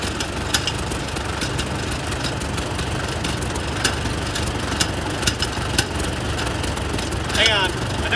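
An old Oliver Super 55 tractor engine runs steadily on a farm, a rough, continuous low rumble with periodic knocks and clicks; a brief scraping gear sound comes near the end.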